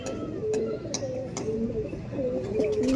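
Andhra Kalshira pigeons in a loft coo in soft, repeated throaty calls, with scattered light ticks and taps from the birds nearby.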